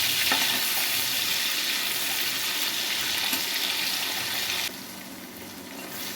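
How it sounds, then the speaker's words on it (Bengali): Shrimp fry in hot oil with turmeric, a steady loud sizzle hissing throughout that drops slightly toward the end, with no talking. "আমি হালকা একটু হলুদ দিয়ে যে সুন্দর করে ভেজে নিলাম।"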